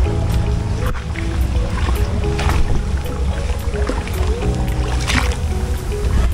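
A round basket boat (thung chai) glides along a narrow river in light rain in Vietnam, with steady water sloshing and paddle noise up close, a continuous rough wash with occasional knocks and faint background voices.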